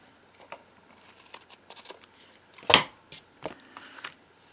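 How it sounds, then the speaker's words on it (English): Scissors trimming paper for a no-sew tag book, a few quiet snips and crisp cuts close by with one louder sharp snip, no talk. "Let me trim this because I can't see it."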